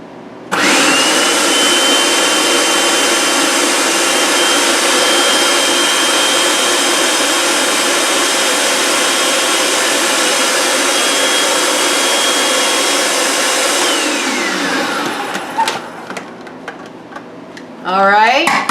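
An electric mixer blends egg loaf batter with cinnamon, whirring loudly and steadily up close for about fifteen seconds before winding down, followed by brief clatter and a short final burst.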